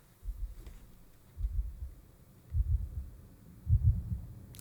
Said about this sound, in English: Heartbeat, check.